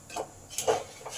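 A spoon stirs thick palm fruit pulp sweetened with sugar in a pan, giving a few soft, quiet scrapes and clinks at an uneven pace, with no talking.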